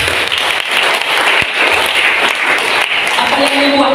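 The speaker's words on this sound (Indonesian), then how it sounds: "Beri tepuk tangan untuk Tuhan." Church congregation breaks into steady, sustained applause, a dense wash of many hands clapping at once that fills the room, loud and continuous, with a faint voice or tone emerging near the end.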